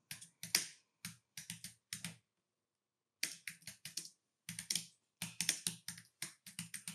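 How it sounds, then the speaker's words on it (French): Typing on a computer keyboard, quick bursts of close, crisp key clicks separated by a clear pause, with no voices. "Je vais taper le nom du style du chapitre."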